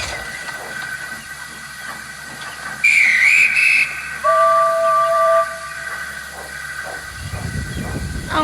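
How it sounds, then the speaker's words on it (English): A guard's whistle sounds on a railway platform as the Flying Scotsman starts off in Thomas and Friends: two shrill blasts in a row over a steady hiss and rumble. "The Flying Scotsman buffered up and waited patiently for the guard's whistle"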